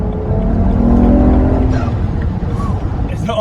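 A car driven again after an axle repair, with a worn differential, hums with a steady engine note that drops and fades, fairly loud and close, while a voice talks over it.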